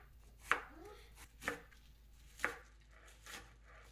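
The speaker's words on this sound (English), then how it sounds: "I have a couple of onions here that I'm going to dice finely." A knife chops onions on a cutting board, four distinct sharp knocks spaced about a second apart, close and fairly quiet with nothing else around.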